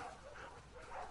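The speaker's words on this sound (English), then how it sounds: "Hey, you crazy dog." A dog in The Last of Us Part II gives short, soft yipping barks, close and fairly quiet, with a low hum of game sound underneath.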